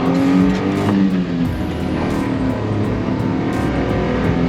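A Honda Acty kei truck pulls away, its small engine giving a steady, close hum and drone as it drives off, with a few light clicks and no talk.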